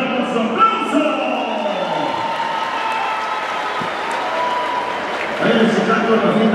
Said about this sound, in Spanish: dígamelo con su aplauso